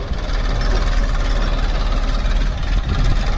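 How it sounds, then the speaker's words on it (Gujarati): Tractor engine running steadily as it reverses on a farm near a well, a continuous loud low rumble with a knocking, idling-like throb and no break throughout. "ભાઈ જો ટ્રેક્ટર આવી ગયું છે રિવેસ લાગે છે"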